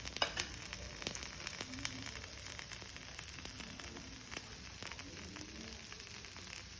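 Channa chilli dosa frying in oil on a pan, a soft steady sizzle and crackle close by with faint scattered pops and light clinks, no voices.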